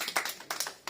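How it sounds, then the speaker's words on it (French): A church congregation claps briefly to welcome a newcomer at a Sunday service: a few loud, close, uneven bursts of hand claps over about a second. "on applaudit"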